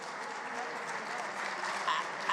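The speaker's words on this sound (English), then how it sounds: "I don't know what you're clapping about" Delegates at an assembly session clapping together, a steady, fairly distant wash of applause through a large hall with a faint voice near the end.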